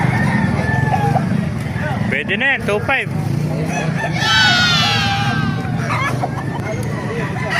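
A rooster lets out one loud, drawn-out crow nearby at a busy chicken market in Baliuag, Bulacan, amid clucking, crowd babble and someone talking.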